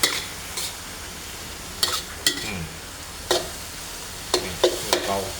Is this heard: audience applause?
no